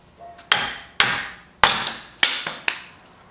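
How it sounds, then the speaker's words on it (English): Hammer blows on a Ford F250 Super Duty Dana front axle shaft around the seal, five or six sharp metallic strikes spaced about half a second apart, loud and close with ringing decay. "if you just take and hit it around the seal with a hammer, it usually comes off fairly easy"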